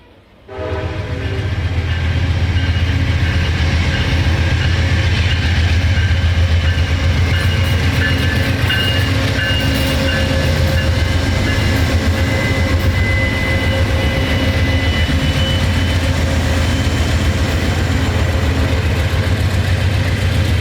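A passenger train rumbles past steadily at close range at night, a deep continuous roar with grinding and rattling wheels holding loud throughout.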